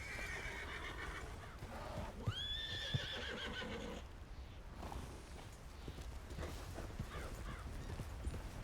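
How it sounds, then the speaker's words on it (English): An angry horse lets out a loud, shrill whinny that rises and trails off, with hooves clopping and shuffling nearby. "Heard a very angry horse."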